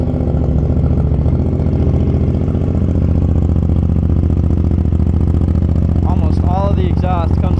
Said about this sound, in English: this is my dirt cheap exhaust mod